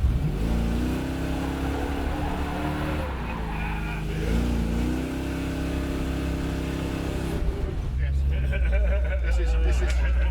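The Black Beauty, a Green Hornet car with a huge engine, idles with a deep rumble, then revs and pulls away with rising engine tones, heard under nearby talk.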